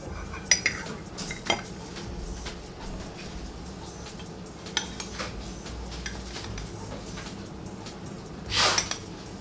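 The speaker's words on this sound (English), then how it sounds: "So now we gotta mix it very well" A spoon stirs milk into Betty Crocker mug treat cake mix inside a mug, scraping and clinking against the sides in irregular taps and strokes, close up, with a louder rattle near the end and no voices.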